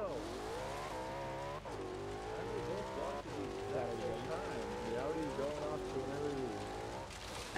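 Multiple race car engines roar and rev together at the start of a rally race in Forza Horizon 3, with rising and falling pitches from several cars layered continuously, while people talk over them.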